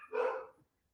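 A single short, high puppy bark, close and clear, quickly fading to silence.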